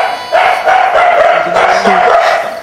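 Several dogs bark loudly and close together in a dense, continuous burst of overlapping barks and yips.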